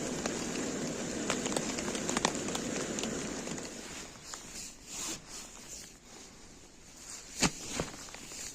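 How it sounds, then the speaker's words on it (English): Light drizzle in June woodland seen from a veranda at a wild camp: soft, close patter and rustle at first, thinning to sparse scattered drips with a few sharp taps. "Bit of mizzly rain, but the sun's coming out."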